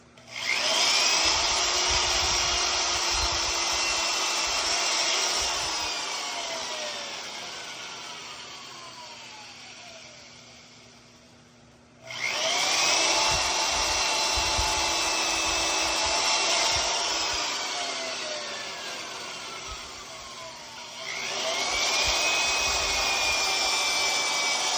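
Power drill boring holes into poplar logs, three long sustained whining bursts each winding down in pitch, close and loud with no talk.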